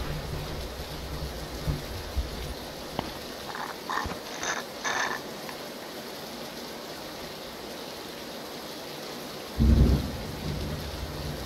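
Steady rain in a French squad battle-royale shooter video game, a constant hiss running through the whole stretch, with faint clicks and croaking frog-like calls early on and a low rumble near the end; no one talks.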